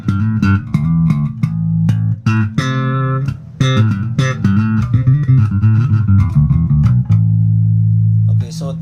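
Passive-mode electric bass played through a flat-EQ amplifier with all tone controls centered, plucked notes and melodic runs ringing out with strong low fundamentals, busy and continuous for several seconds.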